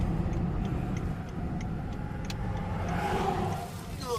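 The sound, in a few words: car driving along the road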